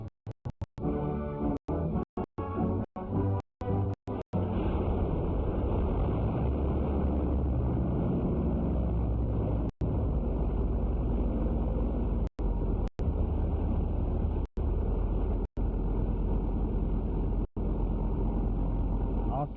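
A 1941 bomber aircraft engine runs on a test stand in a heavily insulated room, giving a loud, steady, unbroken roar after a few brief choppy cuts at the start.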